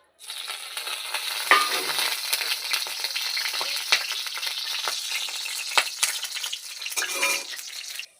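Black cumin seeds spluttering in hot oil in a wok, a close, continuous crackling sizzle with occasional louder pops and a few faint clinks, steady throughout with no voices.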